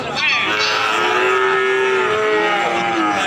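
Cattle low loudly and continuously at a livestock market, one long sustained moo with overlapping calls from other animals close by, no talk over it.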